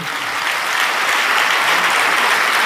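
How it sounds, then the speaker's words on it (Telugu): A congregation claps at a Christian sermon gathering, a thick, even wash of applause that swells slightly and stays loud and close for the whole stretch. "ఏది గట్టిగా కొట్టండి సార్ చప్పట్లో"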